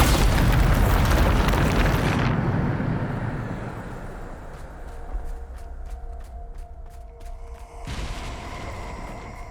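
Loud, dense blast of the Bombarda spell exploding in Hogwarts Legacy, a heavy roaring burst for about two seconds that decays into rumbling debris and crackle, with a second rush of noise near the end.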